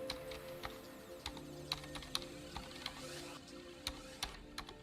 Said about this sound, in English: I'm not sure if I'm typing the right keys.